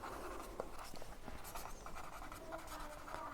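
Pen scratching steadily on paper while a journal entry narration for a machinery purchase is written out, faint and close, with a continuous low room hiss underneath.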